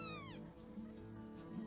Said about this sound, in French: Il a peut être inventé un miau spécial juste pour vous.